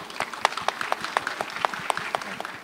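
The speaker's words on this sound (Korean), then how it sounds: "박수 주세요." An audience claps for a professor about to give a short lecture on climate risk in Seoul, a loose rhythm of distinct handclaps, fairly close and alone without talk.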